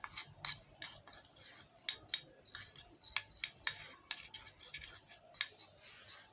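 A spoon scrapes and clinks rhythmically against a bowl while milk and maida flour are mixed into a paste, a run of close, fairly quiet scratchy strokes with no talking.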